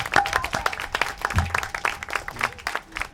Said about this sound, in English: that's something that definitely deserves another round of applause